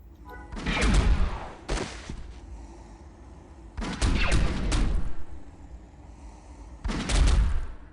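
Gunfire in the Star Wars Galaxies video game, three loud bursts of rapid blasts with short gaps between them, each lasting about a second, over a low background hum.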